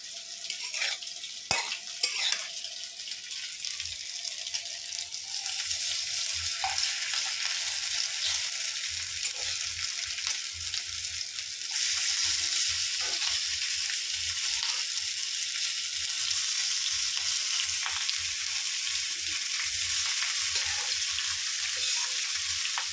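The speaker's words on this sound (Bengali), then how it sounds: "পেঁয়াজটা আর গরম মশলা ভেজে নিচ্ছি" Onion and garam masala frying in a pan, a steady loud sizzle that runs throughout with occasional stirring clinks, growing slightly louder partway through, with no speech.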